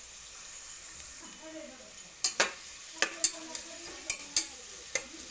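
Onion frying in heated oil for a village chicken curry, a steady soft sizzle with sharp utensil clacks and scrapes against the pan repeating through the second half.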